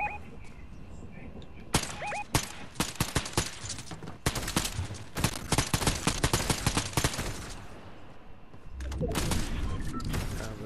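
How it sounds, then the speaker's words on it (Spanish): Bursts of rapid Fortnite gunfire, several volleys of automatic shots in quick rattling sequences, loud and close, with short pauses between them and no talk. "por ahí vienen disparos"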